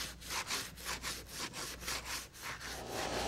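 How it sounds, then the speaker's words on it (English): A wooden gun stock is sanded by hand with the grain, making a steady rhythmic scraping of about a dozen back-and-forth strokes, close and clear with no talk. "keep sanding until everything's even"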